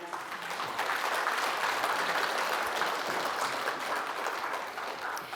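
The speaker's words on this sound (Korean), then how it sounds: "여러분 다시 한번 힘찬 박수로 한 분씩 맞아주시기 바랍니다." An audience at the founding general assembly of an international religious union applauds to welcome its leaders as they are called up, a dense, steady wash of clapping from a sizable crowd that holds evenly and eases slightly at the end.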